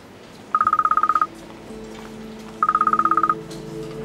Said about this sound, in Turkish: Erhan Bey telefonunu unutmuş, çalıyor.